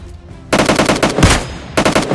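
Rapid automatic gunfire at bots in a battle royale mobile game, loud close bursts of rhythmic shots after a brief quiet start, with a short pause before a final burst.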